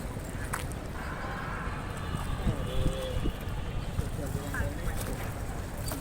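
A traditional Dhaka wooden boat travels on the Buriganga river, with a steady broadband wash of water and engine noise throughout and faint voices in the background.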